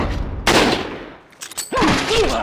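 Rifle fire in the video game Resident Evil 4 cracks out in loud bursts, with a pause before another shot and ringing echoes in a cave setting.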